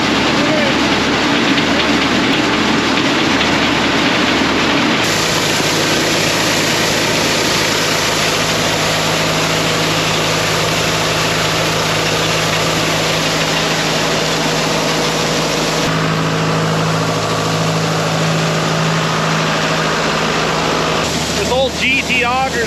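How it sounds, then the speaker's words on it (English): An old GT grain auger's engine runs on a farm with a steady, loud, close mechanical drone that shifts pitch slightly a few times, and voices are faintly mixed in. "This old GT auger's been on the farm ever since I can remember."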